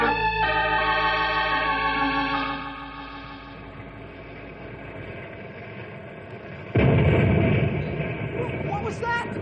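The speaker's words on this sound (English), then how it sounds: "A cave full of dynamite. It shook the earth like jelly." A cave full of dynamite blows up in a radio drama, a sudden heavy roaring blast that comes in after a fading musical sting and quiet stretch, loud and reverberant, rumbling on to the end.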